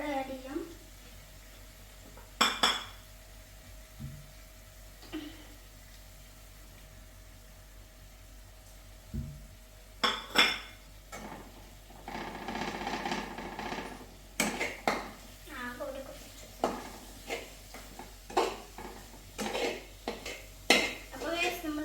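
Metal spoon scraping and clattering in a pan while masala spices are stirred for a Kerala squid (kanava) roast, with irregular sharp clinks and scrapes, some gentle sizzling, and quiet pauses between bursts.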